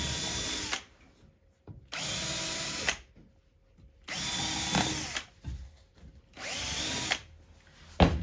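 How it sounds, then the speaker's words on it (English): A power drill whirs in four bursts of about a second each, separated by short pauses, pre-drilling holes into wood for a stool close by. "I'm going to pre-drill my holes just so they'll go better"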